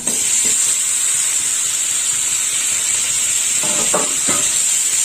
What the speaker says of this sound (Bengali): এবার একটু সবজিটা ভালো করে মশলার সাথে কষে নেব